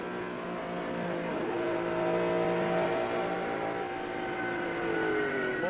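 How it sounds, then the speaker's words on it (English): A NASCAR stock car spins off turn 4 at Darlington during the Southern 500, its engine a sustained whine whose pitch bends and slides as it loses grip, heard steadily with no talking. "here's a single car spin off turn 4 by Michael Waltrip"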